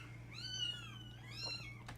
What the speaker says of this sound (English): if you hear the little mews in the background